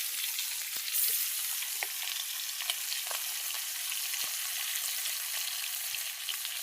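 Large fish heads fry in hot oil in a pan for a small home picnic, giving a steady close sizzle with scattered sharp pops and crackles and no voices.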